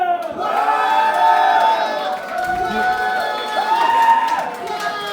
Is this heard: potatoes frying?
no